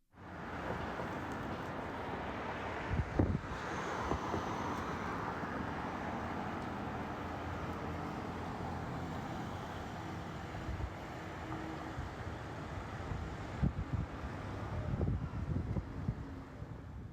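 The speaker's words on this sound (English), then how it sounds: "That is the cars and the wind outside of the studio today on Black Friday." Car traffic and gusting wind outside a studio on a late-autumn day, a continuous soft wash of passing vehicles and wind buffeting the microphone, with a few louder swells near the end.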